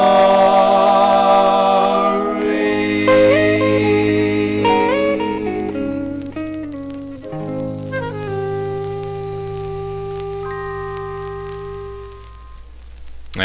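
A 1955 doo-wop vinyl record plays loud and steady, with sustained vocal harmonies over a low bass line, held notes shifting through the song until a final abrupt click.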